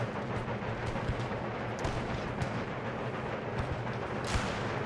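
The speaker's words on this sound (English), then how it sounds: "We'll load you with ball to shoot these Cossack infantry." Musket volleys and artillery crackle and rumble in a battle in Empire: Total War, where Swedish line infantry fire on Cossack infantry, heard as dense, continuous distant gunfire with a few sharper reports and no talk.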